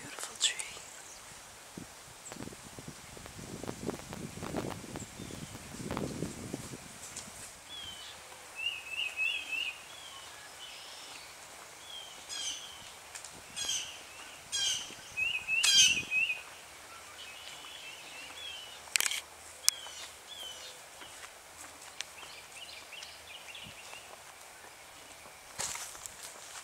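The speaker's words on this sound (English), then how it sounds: "you can hear all the peaceful park sounds in the background" Outdoors in Tarpon Springs park, footsteps crunch nearby while birds chirp intermittently in the distance and leaves rustle, a quiet, sparse ambience with brief soft sounds scattered throughout.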